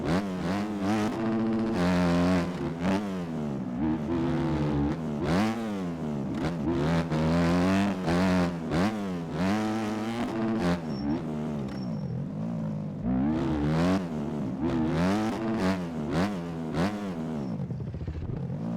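Factory 250 dirt bike engine in the MX Bikes racing game, revving hard and continuously with rising and falling pitch through repeated gear shifts, loud and close, with no talking.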